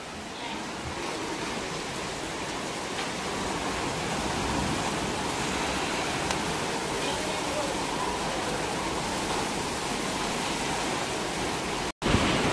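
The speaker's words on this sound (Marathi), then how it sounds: "खिडकीत आतमध्ये पाणी येते." Heavy rainwater gushes in through a house window as a loud, steady, broadband rush that fills the whole stretch without pause, broken only by a brief click near the end.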